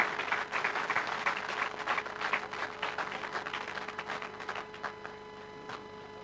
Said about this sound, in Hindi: सभी के स्वागत के समय एक बार तालियां अवश्य बजनी चाहिए।